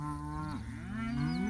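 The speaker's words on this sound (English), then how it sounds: "That's the pet cow." A farm cow, part of a livestock herd, gives a loud, close, drawn-out moo with a falling then rising pitch, heard alone.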